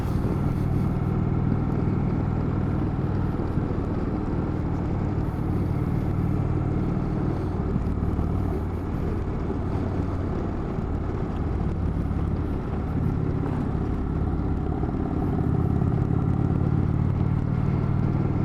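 A heavy Indian Chieftain motorcycle's 111 Thunderstroke V-twin engine runs continuously nearby, a deep steady rumble that holds for the whole stretch with no talk.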